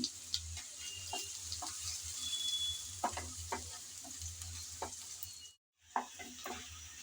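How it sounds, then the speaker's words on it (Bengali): Onions being stirred and fried in a pan for hilsa fish curry, with a steady moderate sizzle and scattered scraping clicks of a spatula, a brief silent gap near the end, and no voices. "কিছুক্ষণ নেড়ে চেড়ে পেঁয়াজ হালকা করে ভেজে নিলাম"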